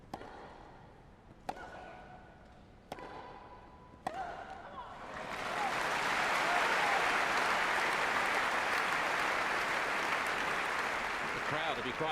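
At a 2012 Wimbledon quarter-final between Sabine Lisicki and Angelique Kerber, crisp racket strikes of a grass-court rally ring out. Then loud, roaring crowd applause swells and carries on for several seconds.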